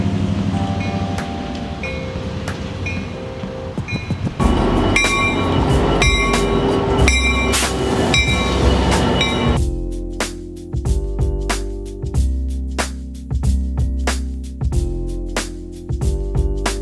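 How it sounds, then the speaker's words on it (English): Rumbling rail noise with rhythmic clatter and shifting tones, like riding aboard a moving train, steady and fairly loud with no talking. "I'll take the train to get to Dallas, to get to school."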